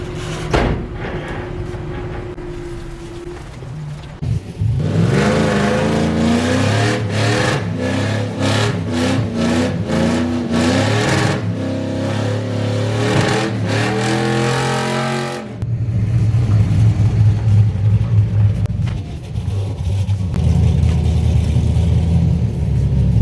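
A Chevrolet Silverado pickup truck engine drones and revs loudly through most of the clip, with a brief drop and pause before a rougher engine rumble resumes.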